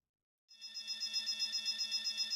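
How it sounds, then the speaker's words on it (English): An alarm in the video game Goddess of Victory: NIKKE, a quiet electronic warning tone that starts abruptly after silence and pulses steadily in a fast, regular rhythm. "An alarm?"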